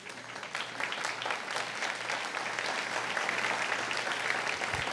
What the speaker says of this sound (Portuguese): Você pode se assentar, aplaudir o nome de Jesus?